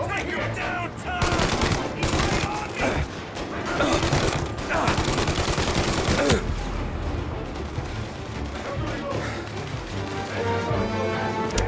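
Sustained gunfire in the Mafia video game, dense bursts of rapid shots and heavy impacts through the first six seconds, then lighter scattered fire continuing, with a voice briefly under the shooting.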